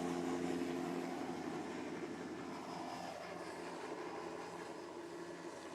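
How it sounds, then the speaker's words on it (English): A sheriff's helicopter over Brevard drones faintly in the distance, a steady engine and rotor hum that eases off slightly as it departs; nobody speaks. "the sheriff's helicopter is leaving"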